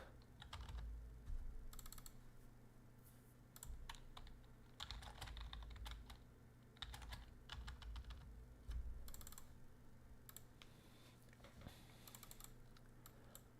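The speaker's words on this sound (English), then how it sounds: "I'll type this in chat" Someone types on a computer keyboard, quick clusters of close key clicks separated by short pauses, quiet and steady over a low background hum with no talking.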